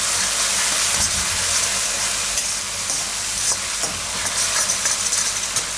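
Spinach and urad dal are stirred in hot oil in a pan, making a steady, close sizzling hiss broken by scraping, clattering stirring strokes.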